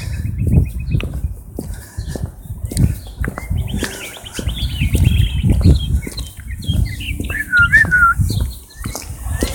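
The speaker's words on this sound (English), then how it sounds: "My beautiful birds whistling and singing." Cardinals and other songbirds whistle and sing in a steady series of bright chirps and trills across the whole stretch, over a constant low rumble of outdoor background noise.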